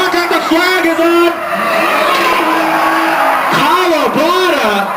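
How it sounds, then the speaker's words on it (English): Drift cars at full power on a banked D1GP course, engines screaming and shifting pitch through sweeping revs with tire noise, loud and close, with an excited commentator talking over them. "Kicking the clutch, coming into the bank, full power."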